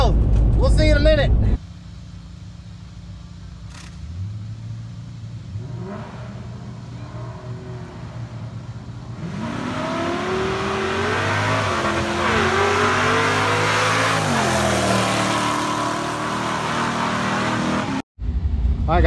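The Coyote V8 in a Ford Foxbody Mustang idles, then revs hard and roars through a drag launch on new suspension. The loud engine climbs in pitch for several seconds before cutting off abruptly, with a voice heard early on.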